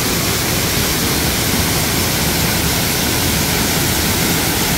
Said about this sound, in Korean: 와, 폭포는 바로 앞에 있습니다.